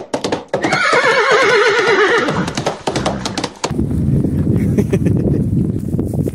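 A horse lets out a loud, close neigh. Its whinny wavers for about three seconds, then gives way to softer snorts and clip-clop with light wind noise on a beach south of Lima.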